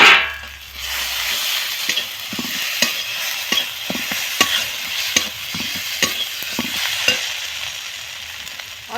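Ground cumin paste fries in a pan, giving a steady close sizzle with repeated scraping strokes of a spoon stirring at a loose, even rhythm throughout.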